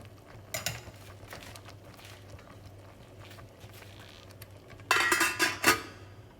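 A pot of Trinidad callaloo simmers after coming to a boil, with a quiet background bubble. Near the end a metal lid clatters onto the pot in a short burst of close clinks and rattles.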